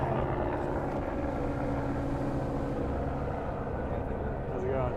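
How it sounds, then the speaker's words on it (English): A steady, rumbling drone of two helicopters flying overhead near a pier in Brooklyn, New York, fills the air continuously, with voices talking faintly underneath. "Two helicopters."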